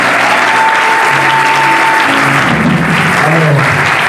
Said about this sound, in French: Si tu es amoureux de Jésus, acclame royalement le Seigneur